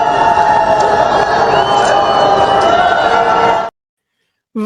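A dense crowd loudly boos Lula, a continuous roar of many voices that holds at full strength for several seconds before cutting off abruptly.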